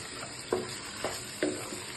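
Ginger garlic paste frying in oil in a pan while cooking mutton liver fry, a soft steady sizzle broken by a few spaced stirring scrapes, close and fairly quiet.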